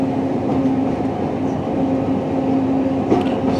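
A Heart of Wales line train nears Llandovery station. From inside the carriage comes a steady low rumble with a faint sustained hum, loud and even throughout.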